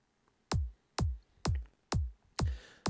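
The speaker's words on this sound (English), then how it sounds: "kick which sounds like this." A kick drum sample hits six times at an even pace, each a deep, punchy thump that decays quickly, heard alone against near silence.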